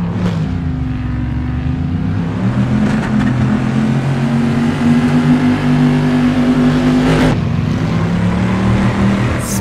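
Corvette C2 race car engine revving loudly in Assetto Corsa at Watkins Glen, a steady throaty drone with rising and falling pitch as it accelerates, and a brief shift near the end.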